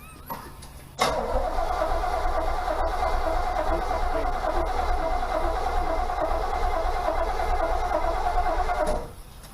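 A 1969 Pontiac Firebird engine cranks and catches after sitting unused for a long time. A sharp start at about one second gives way to a steady, loud running roar that holds for roughly eight seconds before cutting off.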